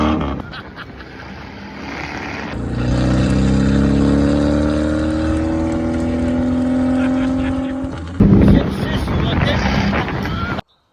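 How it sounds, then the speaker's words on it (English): A car on a road approaches with a rising engine and tire rumble, swells close as it passes, then an abrupt burst of wind buffeting; voices talk over it. "there is a car coming again"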